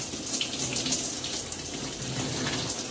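Steady running water from a tap during washing up, continuous and fairly loud throughout with no talking.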